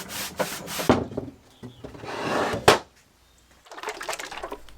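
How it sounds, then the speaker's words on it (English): Hard wax oil is rubbed by hand into old wooden bureau drawers, producing close, loud bursts of rough rubbing strokes separated by short gaps, with no voices. "I used a little bit of hard wax oil just to give them a nice and fresh look"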